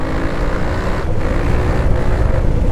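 A Yamaha Tenere 700 motorcycle being ridden, its engine droning steadily and loudly up close, with wind rush blending into the continuous roar.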